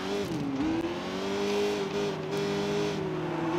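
A car in the video game Sleeping Dogs pulls away, its engine humming steadily and rising slightly in pitch as it accelerates, loud and close with a continuous tone throughout.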